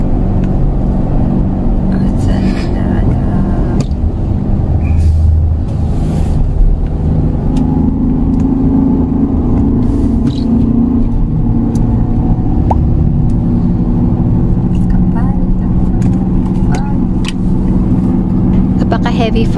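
Steady, heavy engine and tyre rumble from inside a car driving slowly on a road through thick fog in Salalah, Dhofar, Oman, with voices talking faintly over the constant drone.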